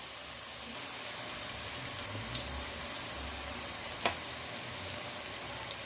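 Onions frying in a pan for kappa biryani give a steady, faint hiss and sizzle throughout, with a few small crackles and one brief sharp scrape.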